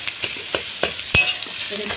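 Fried egg stirred into a little hot oil in a pan, crisp repeated spatula scrapes and taps over a steady close sizzle, one louder knock in the middle, no talking.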